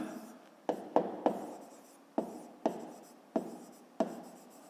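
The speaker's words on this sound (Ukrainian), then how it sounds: "Записуємо тоді діагональ." A pen writing on paper makes a series of short scratchy strokes, about eight distinct marks in an uneven rhythm, close and quiet, with no talk over them.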